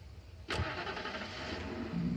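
A car engine cranks and catches in the Alan Wake game, a sharp start followed by a steady mid-pitched idle that swells slightly at the end.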